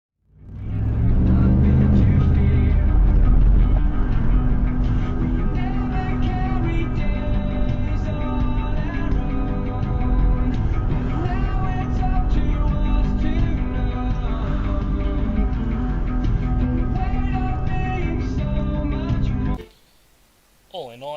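Inside a moving car, a BlackVue DR550 2CH dashcam picks up a constant low road rumble with a voice talking over it, cutting off near the end.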